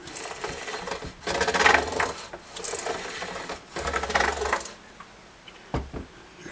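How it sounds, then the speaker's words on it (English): Sandpaper scrubs back and forth across the frets of a worn guitar neck in several long, rasping strokes with short pauses between them, close and fairly loud. "this sandpaper is hitting every fret all the way across every fret"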